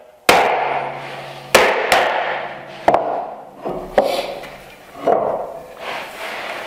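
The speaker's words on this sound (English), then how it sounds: "I'll cut it with a Ryobi saw on the rib side" A Ryobi pull saw works through wood, cutting the cheeks of a tenon held in a vise, heard as sharp strokes and knocks spaced about a second apart with rasping tails, close and alone.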